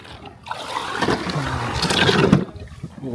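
Water gushing and trickling out of a heavy, water-filled Dreame Z1 Pro robotic pool cleaner as it is lifted, a close, steady splashing pour lasting a few seconds before tapering off.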